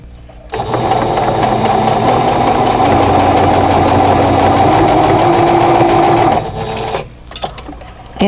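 A sewing machine stitches a quilt block in one long, steady, close run of rapid whirring, then stops briefly before a short final burst.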